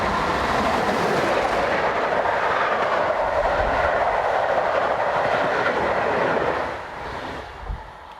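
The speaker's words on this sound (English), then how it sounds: "The train was being paced by an ICE unit all the way to Neustadt" A steam locomotive train rumbles past with a continuous roar and clatter of wheels, then fades away toward the end.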